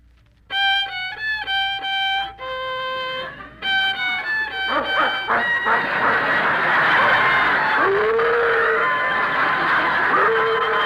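A violin plays a few bright phrases in a hotel, then a dog joins in with long wavering howls and whimpers over the music, loud and close.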